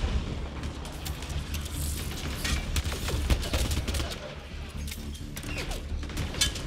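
Rapid bursts of gunfire in Mass Effect Andromeda crackle over a busy, noisy mix, with sharp shots coming close together and a low rumble beneath.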